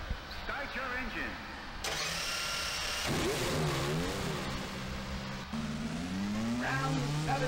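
Race car engines rev in a Dreamcast racing video game: a series of rising and falling mid-pitched engine sweeps that climb and drop repeatedly, with a voice talking over them.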